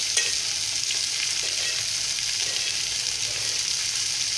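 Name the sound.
fish frying in oil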